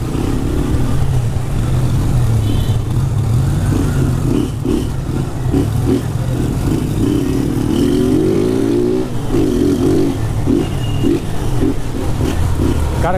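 Motorcycle delivery rider's engine pulsing steadily through dense Friday evening traffic in Brás, São Paulo, with loud continuous road rumble and rhythmic revving bursts from nearby vehicles.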